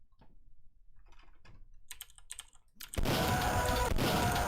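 Computer keyboard typing in quick uneven bursts of clicks, starting sparse and soft, then masked by a sudden loud wash of game music and sound effects in the last second and a half.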